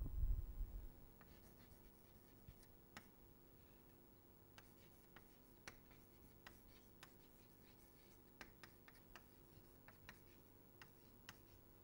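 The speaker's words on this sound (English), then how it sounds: "Let us write it now explicitly." Faint scratching and light tapping of writing out the alphabet sigma during a lecture on sets and strings, irregular strokes over a quiet room hum.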